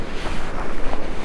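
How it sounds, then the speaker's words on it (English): Wind blows hard across the microphone on the Appalachian Trail at Peters Mountain, Pennsylvania, a loud, close, fluttering roar that pulses unevenly throughout the short moment. "Man, you can still hear the wind."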